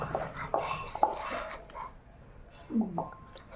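Steel serving vessel clinking and scraping as jaggery is added for Ugadi pachadi, a few sharp metallic taps and rattles, quiet and close, with faint voices in the background.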